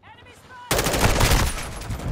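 Sudden loud burst of rapid automatic gunfire in Call of Duty Modern Warfare II, sustained and close after a quiet lead-in.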